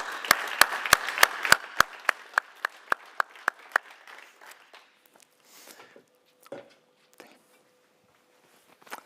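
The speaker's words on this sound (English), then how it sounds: "Big applause." Scattered clapping at a European liberal political conference, a few sharp, evenly paced claps up close that thin out and fade into sparse isolated claps and quiet room noise.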